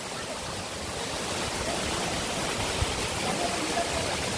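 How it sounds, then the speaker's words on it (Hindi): Bankhaman waterfall, a continuous broadband roar of falling water, steady and enveloping without speech, with only a faint thump partway through. "तो दोस्तों ये है बांखामान वाटरफॉल।"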